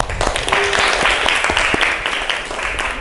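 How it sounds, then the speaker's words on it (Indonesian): A classroom group of students bursts into sustained applause after presentations, dense clapping filling the room evenly from start to finish with no break. "Tepuk tangan."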